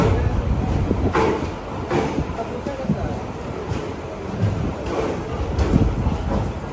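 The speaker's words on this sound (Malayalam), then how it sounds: "അങ്ങനെ നമ്മുടെ ട്രെയിൻ എടുത്തിരിക്കുകയാണ്" Madurai to Punalur Express sleeper pulling out of Thiruvananthapuram Central, a low rumbling roll and clanking of the carriages heard from inside, with people talking over it.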